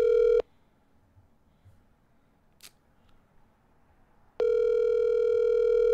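Outgoing phone call: a steady ringback tone sounds, stops into a few seconds of near silence, then resumes loud and unbroken.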